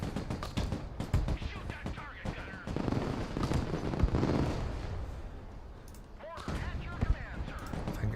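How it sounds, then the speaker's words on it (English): Incoming mortar and artillery fire in the real-time strategy game Broken Arrow: a dense stretch of repeated booms and crackling blasts, near and loud, rising and falling over eight seconds with brief quieter gaps. "Mortars are coming."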